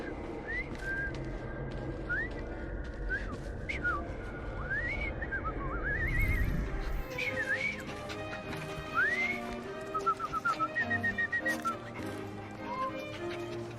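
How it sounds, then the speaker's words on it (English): A character in Assassin's Creed Syndicate whistles a series of rising and falling tones over game ambience, with low rumbling noise and brief bursts of clatter around them. "I've just learned to whistle."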